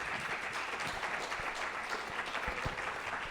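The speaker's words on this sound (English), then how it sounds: "Everybody give her a big round of applause." An audience at an entertainment industry panel claps for a speaker being introduced, giving a continuous, fairly even round of applause with some closer individual claps standing out.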